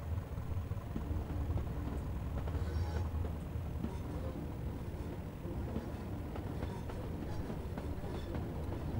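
A Class 205 Thumper diesel multiple unit runs along the track in Train Simulator 2018, with a continuous low rumble and faint rhythmic clicking of wheels at a steady moderate level.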